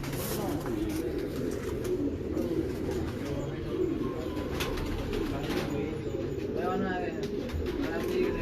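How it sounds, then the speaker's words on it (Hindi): Pet pigeons coo in a loft, soft repeated coos over a constant noisy background, with people talking nearby. "ਇਹ ਸਾਡੇ ਫੇਵਰੇਟ ਕਬੂਤਰ"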